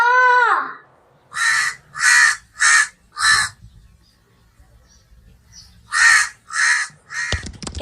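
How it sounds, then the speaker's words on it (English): A crow calls out with seven loud, harsh caws in two bursts, four evenly spaced and then three more, close and clear over a quiet background. A brief rising whistle comes before the calls, and a short clatter follows them. "Crow."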